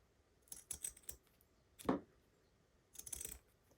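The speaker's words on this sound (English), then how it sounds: "So just cutting all the way around. My scissors are a little bit blunt," Blunt scissors snipping through fabric while a heart-shaped wall wreath is cut out, a few faint crisp cuts in short bursts, close and quiet with pauses between.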